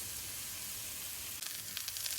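Oil with a little butter sizzles in a frying pan before onions go in, a steady faint hiss with a few brief crackles near the end.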